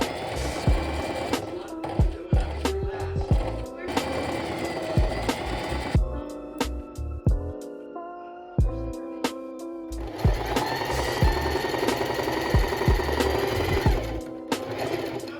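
A sewing machine runs top stitching on a pair of trousers in rapid mechanical bursts, stopping and starting with short pauses between runs, close and fairly loud, with faint clicks and handling noises in the gaps.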